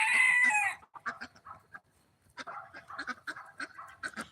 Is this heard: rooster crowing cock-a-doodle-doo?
yes